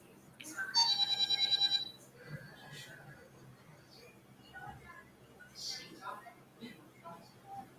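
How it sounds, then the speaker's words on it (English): A phone text message notification chimes as a short run of bright repeated tones near the start, and quieter blips follow later while people talk in the background. "I just got a text from my boss"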